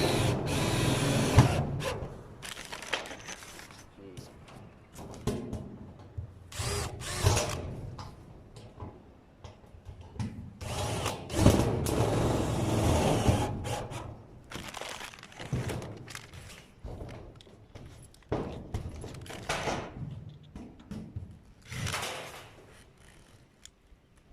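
A cordless drill whirs in repeated short bursts as screws are driven, close by, with brief pauses between each run.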